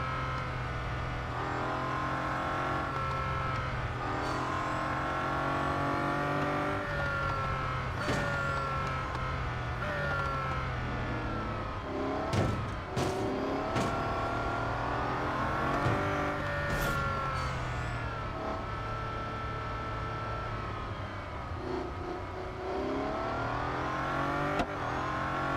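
A Bugatti Centodieci racing in the Real Racing 3 mobile game: a loud, continuous engine note that climbs and falls through gear changes, with a few sharp bursts near the middle and no talking.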